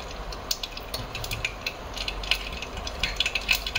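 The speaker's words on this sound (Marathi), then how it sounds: "मोहरी तडतडायला लागली" Mustard seeds spluttering in hot oil while tempering for chole, a quick run of small sharp pops and crackles, fairly close and faint, with no talk.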